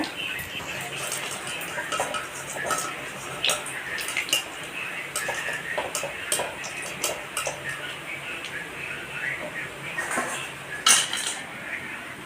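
Fried potato pakoras are lifted out of a pan of hot oil, with scattered metallic clinks and scrapes of a utensil against the pan over a soft, steady background hiss.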